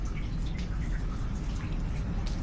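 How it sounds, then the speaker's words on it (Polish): Steady rain falling in the mountains at Zakopane, an even close patter of drops and dripping water continuing unbroken with no voices. "nad Gubałówką świeci słońce, a tutaj pada"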